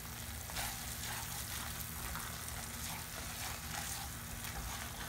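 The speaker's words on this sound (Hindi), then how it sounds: "2 मिनट के लिए मैं और भून लूँगी और बाद में इसको सर्व कर लेंगे" Halwa roasting in ghee in a pan for a North Indian Navratri thali, a steady soft sizzle and crackle with faint stirring scrapes, continuous and fairly quiet throughout.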